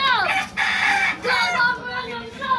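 A ten-month-old Boston Sweater gamefowl rooster crows loudly and close, a long drawn-out call broken into several strained segments.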